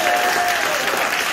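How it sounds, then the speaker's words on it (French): Church congregation applauding for Jesus at a revival gathering, a dense, steady wash of clapping hands filling the space for a moment, with faint voices mixed in. "Acclamez pour Jésus."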